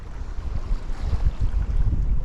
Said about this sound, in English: I'm actually preferring this wind chop on the surface of the water